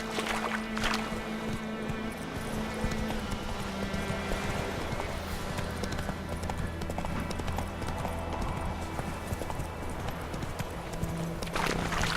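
Hooves of Geralt's horse Roach clip-clopping steadily in The Witcher 3 video game, a continuous close rhythm layered over game music and ambience, with brief louder bursts near the start and end.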